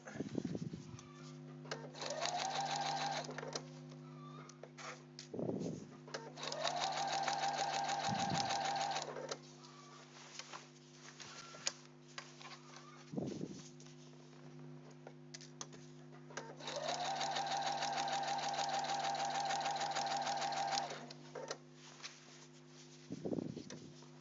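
A sewing machine stitches a simple seam on a parka in several bursts, each run at a fast, even speed with a whirring motor. Short clicks fall in the pauses, and a constant low electrical hum sits underneath.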